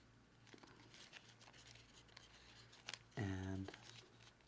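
Origami paper is folded for a flapping dragon model, giving soft close crinkles and creases, a few crisp paper snaps and one brief louder rustle near the end.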